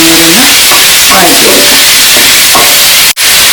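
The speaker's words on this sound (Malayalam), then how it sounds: "ഇതൊന്ന് നല്ലൊരു ഗോൾഡൻ കളർ ആവുന്നതിന് വഴറ്റിയെടുക്കാം." Onions with a couple of curry leaves sautéing in hot oil for a roasted-coconut chicken curry, a steady close sizzle with stirring scrapes and a faint voice underneath, cut by a brief dropout near the end.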